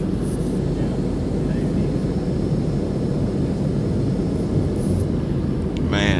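Steady, loud airplane cabin roar inside a passenger jet during descent before landing, a broad continuous rumble and hiss filling the whole stretch without a break.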